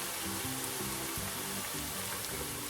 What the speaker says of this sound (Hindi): 1 मिनट के लिए इसको भूनें।